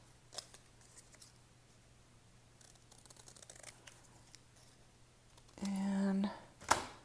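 Scissors cut out paper for a journal, with faint snips at first, then a louder sustained cut and a sharp final snip close by, against a quiet room hum.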